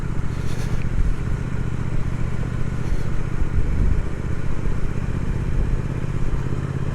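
A Triumph Speed Twin motorcycle on the move, its engine a steady, loud low rumble with wind and road noise and no talk.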